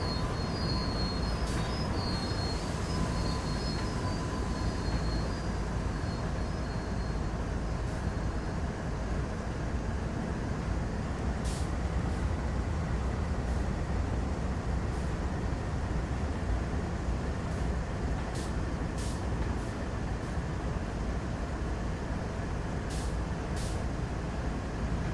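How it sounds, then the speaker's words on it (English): A BNSF diesel locomotive in the Train Sim World 3 video game brakes on the Cajon Pass line, a continuous heavy rumble with hissing air brakes and occasional thin wheel squeals, steady and without speech. "I'm going to start applying the brake now."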